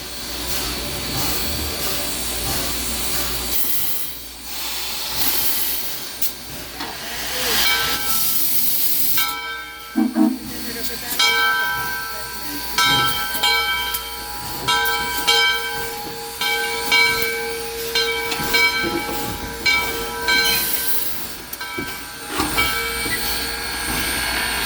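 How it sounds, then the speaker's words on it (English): ALCO steam locomotive 630, built in 1904 by the American Locomotive Company, hisses steadily on a railway turntable, with a broad continuous steam rush and scattered clanks and mechanical knocks joining in partway through. "steam locomotive 630 was built in 1904 by ALCO, that is short for the American Locomotive Company"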